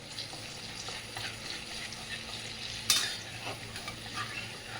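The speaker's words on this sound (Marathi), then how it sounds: "बटर टाकले गाईज, त्याच्यामध्ये खडा मसाला टाकते" Whole spices such as bay leaf, cinnamon, cloves and peppercorns frying in butter and oil in a home kitchen, a steady close sizzle with stirring and one sharp metallic clink partway through, no talk.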